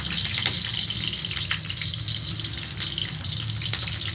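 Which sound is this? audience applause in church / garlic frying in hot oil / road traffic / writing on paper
garlic frying in hot oil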